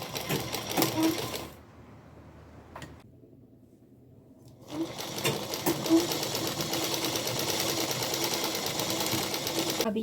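A sewing machine stitching a salwar runs loudly in a steady hum, pauses for about three seconds, then resumes and keeps running continuously to the end.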